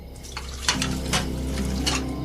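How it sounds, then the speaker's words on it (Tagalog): Dishes and cutlery clink and knock in a kitchen sink during washing, with scattered sharp clatters over a low steady background and no talk. "abalang naguhugas sa kusina ng mga pinggan na pinagkainan namin"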